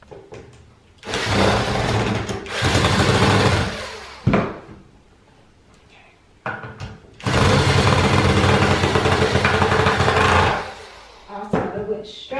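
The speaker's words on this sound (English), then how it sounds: "We're going to use our drill bit to drill through each of these holes" Two long, loud bursts of a drill boring through pre-drilled holes in aluminum into wood for an industrial kitchen cart, separated by short knocks and handling noise, close up.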